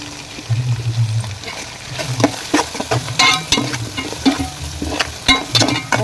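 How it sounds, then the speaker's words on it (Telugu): Ginger paste and turmeric frying in a pan for an Indian fish curry, loud sizzling with repeated scraping stir strokes and clinks, close up and without talk. "ఇలా ఫ్రై చేసుకుంటే మంచి స్మెల్ వస్తుంది కూర"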